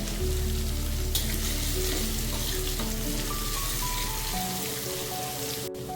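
Ginger garlic paste fries in hot oil for a chana masala tadka: a loud, dense, steady sizzle with a low hum beneath that drops away near the end.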